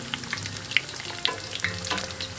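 Turkey croquettes sizzle steadily in a pan of hot oil, with a few light scrapes and clicks as they are turned over, close and fairly quiet.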